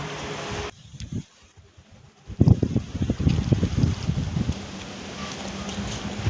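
Gusty wind buffeting the microphone, a rough low rumble that drops out briefly then returns stronger and keeps blustering.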